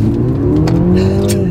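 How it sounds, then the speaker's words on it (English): A 2025 Mercedes-Benz GLC 300 accelerates hard from inside the cabin, its engine droning loudly and climbing steadily in pitch over a brief burst. "let's see how quickly we can get our new GLC 300 up to speed"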